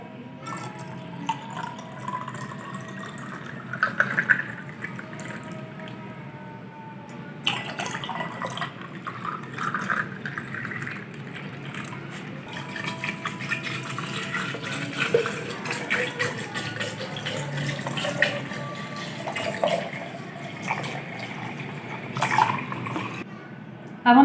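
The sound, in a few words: water poured into tamarind plum sharbat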